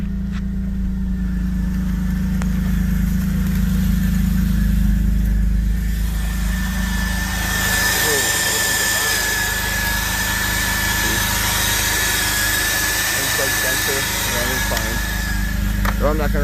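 A BMW E39 528i engine idling with a sensor unplugged, a steady low hum close by with a faint whine above it, under someone talking.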